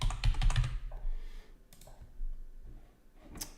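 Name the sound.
typing on a computer keyboard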